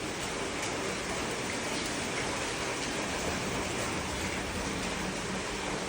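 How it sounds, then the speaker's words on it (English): Heavy rain falls with wind in Bali, a continuous, dense, even hiss of downpour that stays loud and unbroken throughout, with no voices. "under this horrible rainfall. It's crazy. Making tons and tons of noise with the wind and the rain."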